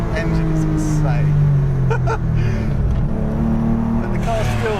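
A Porsche 964 RS engine roars loudly and steadily, its pitch climbing and dipping as the revs rise and fall, with a voice talking over it.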